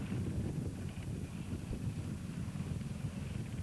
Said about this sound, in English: Very windy part of the course, this.